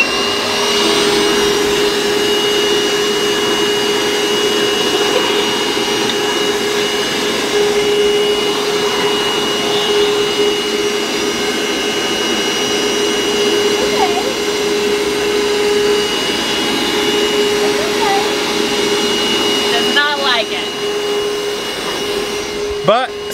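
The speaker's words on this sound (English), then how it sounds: "this is the first time we've used this vacuum" A battery-powered vacuum cleaner runs at home with a puppy nearby, a loud steady whine and hum held throughout with a faint voice briefly over it.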